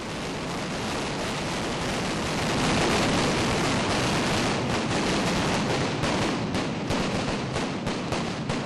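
Mascletà finale 'terremoto' of pyrotechnic firecrackers in a Spanish city centre, a loud, continuous roaring barrage of dense explosions that swells and rumbles without pause, no voices.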